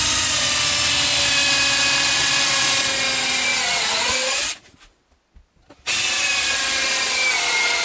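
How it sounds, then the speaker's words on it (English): Cordless power drill boring into a pegboard, a loud sustained whining motor drone that stops briefly mid-clip then starts again at full speed. "Get the feeling my drill's about to break."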